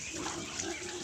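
Low grunting and snuffling from native pigs fed banana peels, steady and close, with a busy farmyard murmur throughout and no clear talking.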